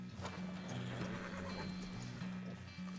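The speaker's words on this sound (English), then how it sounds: "Just heard thunderous hooves." Horse hooves pound steadily while a horse whinnies, close and loud, as riders gallop in formation across open ground in the RedM western roleplay game.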